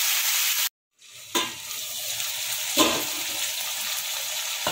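Pumpkin sabzi being stirred and mixed with spices in a hot pan, a close, steady sizzle broken by a sudden brief silence, then scraping stirs and a couple of louder bursts over continuous frying.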